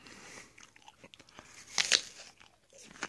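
Teeth bite into a dense, crunchy Discovery apple, giving a sharp, close crunch near the middle followed by softer chewing sounds, with no talking.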